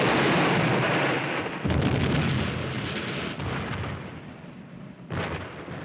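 A tank gun fires at a Panther tank in a wartime battle scene, a heavy booming blast with a long rumbling roar and a second sharp report near the end, loud and close.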